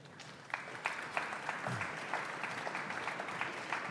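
Audience applause welcoming panel participants at a German IT summit panel discussion, a moderate steady patter of clapping from a seated crowd in a hall, continuing evenly throughout.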